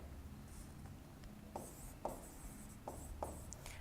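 Chalk or marker scratching on a classroom board during a commerce lesson comes as a few short, faint strokes separated by pauses, with a quiet room hum beneath.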